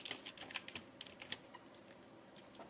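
Light keystrokes on a computer keyboard while typing code, a quick irregular burst of soft clicks that thins out into a few scattered taps, close and fairly quiet with no talking.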